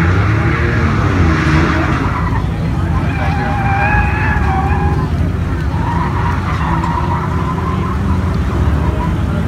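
Tires of a drift car squeal in long wavering skids heard from inside during a ride-along, over a loud steady engine roar, with some voices in the background.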